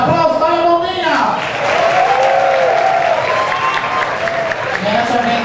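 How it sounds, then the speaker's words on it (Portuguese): Audience applause and cheering from a nightclub crowd at a drag show, loud and continuous throughout, with a voice speaking over the clapping at the start and near the end. "Aplausos para a Lominha!"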